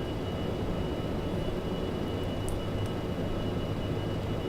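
A Boeing 727 airliner in the FlyJSim flight simulator turns on approach, with a steady, broad engine and air roar that drones on without a break.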